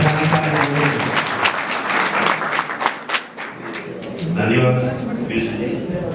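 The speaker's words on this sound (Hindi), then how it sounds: "एक बार जोरदार तालियां प्रधानाचार्य महोदय।" Audience applause fills a theatre hall during a theatre group's stage event, dense clapping with crowd noise that swells and then fades as a voice begins speaking.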